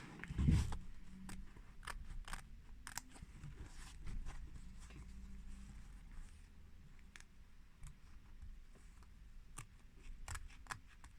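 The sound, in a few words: scissors cutting away fabric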